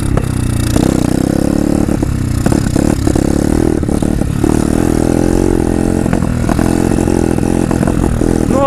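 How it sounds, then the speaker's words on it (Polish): A motorcycle engine runs loud and close in the rain, its rough mid-pitched drone wavering with clattering and scraping as the bike sputters low on fuel. "I motor gaśnie."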